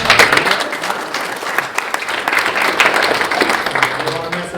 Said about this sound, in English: So you can give them a round of applause as they come down